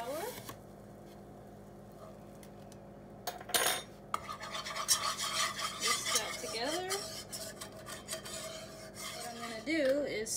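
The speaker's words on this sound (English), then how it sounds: "Just gonna add a little bit at a time and whisk that together." A whisk scrapes steadily through a flour mixture in a metal pan on the stove, giving a quiet rasping and clinking that grows busier after a few seconds, with a soft voice present in the background.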